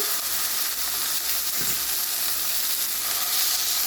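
Ground lamb frying in a little oil in a cast iron skillet, a loud, steady hissing sizzle that runs throughout with a brief stirring scrape near the middle.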